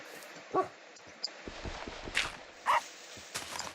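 Minecraft dogs let out a few short whimpers and yips at scattered moments over a quiet game background with soft footsteps, and no one speaks.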